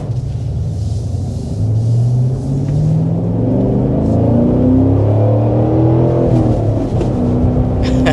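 A Cadillac CT5-V Blackwing, a rear-drive sedan with a manual V8, on a country back road. The deep engine note rumbles steadily and rises and falls through gear changes, heard loud and close from inside the car.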